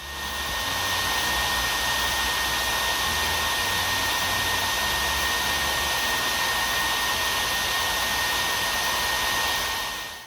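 A hair dryer running on its max setting, a loud, steady whooshing roar with a constant high whine that starts abruptly, holds unchanged for about ten seconds and then stops.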